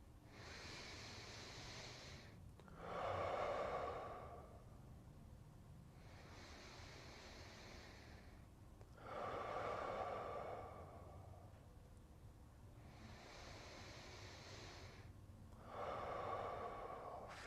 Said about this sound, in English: So let's go for 10 deep breaths here. In through the nose and out through the mouth,